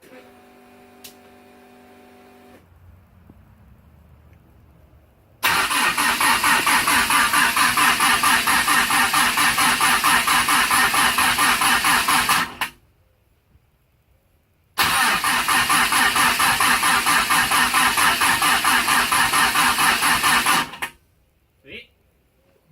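A Pontiac Fiero engine revving hard through a crude exhaust welded straight to the turbo, loud and raw, in two long sustained bursts, cutting off to near silence between them.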